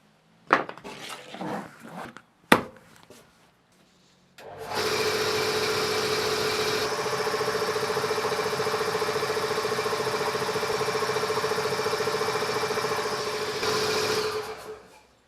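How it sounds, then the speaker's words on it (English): A used air compressor caked in paint dust, its motor and pump running, gives a steady loud droning hum for about ten seconds after a few clanks and knocks. "the motor and the pump sounded good"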